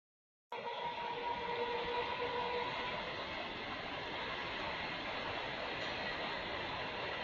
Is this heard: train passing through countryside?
yes